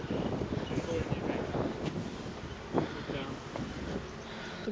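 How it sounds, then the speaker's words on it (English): Wind gusts buffet the microphone atop a hot stone temple in Ayutthaya, Thailand, a steady rumbling roar with occasional stronger bursts and people talking faintly underneath. "Looks windy."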